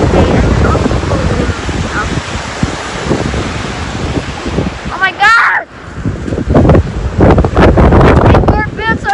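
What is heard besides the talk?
strong wind and big waves at a lake shore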